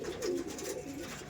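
Pigeons kept for sale by a breeder coo close by, a soft, low, wavering throaty call rolling across the short moment, with quiet background.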